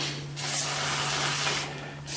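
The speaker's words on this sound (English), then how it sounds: "Some electrical parts cleaner. And get those sheaves nice and clean." Electrical parts cleaner sprayed from an aerosol can onto the secondary clutch sheaves of a Yamaha Grizzly ATV, giving one close, steady hiss lasting well over a second.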